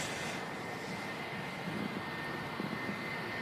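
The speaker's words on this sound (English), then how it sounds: "just had an EasyJet touching down here as well" An EasyJet airliner touches down at Manchester Airport, its jet engines giving a steady, distant, fairly faint roar with no talk.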